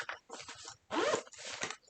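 Zipper on a backpack's large pocket from a subscription box, pulled in several short raspy strokes, two of them longer and louder, close up with no voices.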